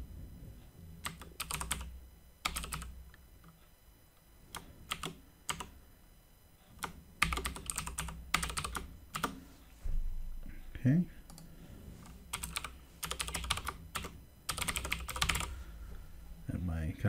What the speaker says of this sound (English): And we will type in some info.